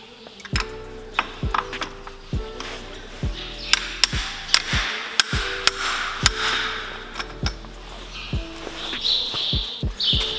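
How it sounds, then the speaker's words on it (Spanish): Sharp metallic taps from a small hammer securing a part on a BMW E36 ring out one at a time at an irregular pace, close and clear, with faint chirping in the background. "con unos golpecitos pequeños con el martillo lo dejamos asegurado"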